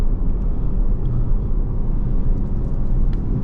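A 2023 Porsche Panamera Platinum makes a steady, loud, low rumble heard from inside the car as it gently accelerates on the road.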